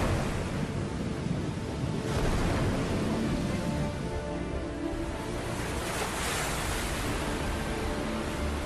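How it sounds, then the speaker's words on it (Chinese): Rough sea during a typhoon, a loud, continuous roar of crashing waves and surf mixed with gusting wind, dense and unbroken throughout. "台风所到之处，惊涛骇浪，"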